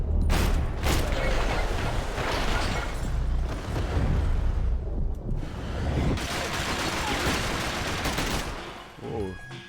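Dense gunfire from the video game Max Payne 3: repeated shots and bursts crack through a busy, loud battle mix, with voices talking over parts of it.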